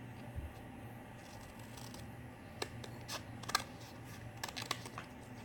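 Scissors snip through a cardboard toilet paper tube, cutting it down the middle for a DIY dog Halloween costume: a few faint, scattered clicks and crunches over a quiet room hum, with no talking.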